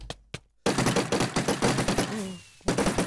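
Rapid gunfire in the video game GUNS, with two isolated shots and then a dense string of fast, loud bursts that stops briefly and starts again. No voices.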